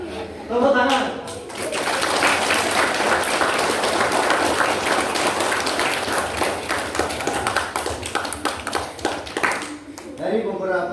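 Classroom students bursting into applause during a school talk on bullying, loud dense clapping that swells quickly and holds for several seconds before thinning out, with a voice speaking briefly at the start and end.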